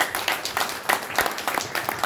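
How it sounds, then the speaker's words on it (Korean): An audience at a Korean community forum applauds, a close, loose flurry of individual claps in uneven rhythm with no talk over it. "큰 박수 한 번 더 부탁드리겠습니다."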